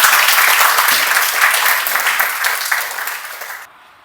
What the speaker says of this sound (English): Can I request a round of applause?